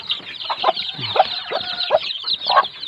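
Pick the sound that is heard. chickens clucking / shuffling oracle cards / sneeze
chickens clucking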